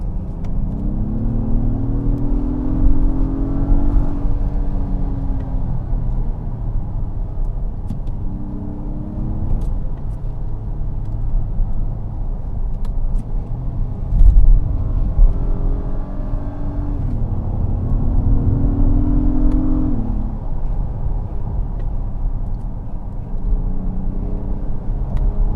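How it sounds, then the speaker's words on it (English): A 2022 Acura MDX Type-S with a 355 hp turbo engine drives a mountain road in Sport Plus mode, its engine droning steadily and rising in pitch through repeated accelerations, with no talking. "that's a quick drive in the MDX Type-S."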